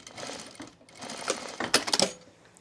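A sewing machine stitches fabric in short bursts, its needle running a little way down and back up from the bottom of a seam, close and fairly quiet, with brief pauses between runs.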